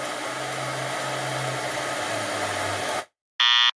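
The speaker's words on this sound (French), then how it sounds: "Le sèche-cheveux ça n'a pas bien fonctionné" A hair dryer blowing hot air on a pair of old sneakers, a steady loud whooshing hum for about three seconds that cuts off abruptly, followed by a brief burst of noise.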